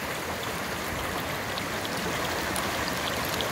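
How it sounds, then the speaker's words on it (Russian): A small cold mountain stream runs steadily near Lazarevskoye on the Black Sea coast, making a constant close broadband rush and babble with no pauses and no voices. "Вот такие вот маленькие речушки и запитывают нашу речку Псизуапсе"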